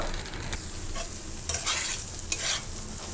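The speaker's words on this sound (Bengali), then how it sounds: "এখানে যে গাজরটা দিছি আমি দুই তিন মিনিট গাজরটা ভাজবো" Carrots sizzle and crackle in a hot pan while being stirred for fried rice, with a couple of sharper scraping clicks; no voices.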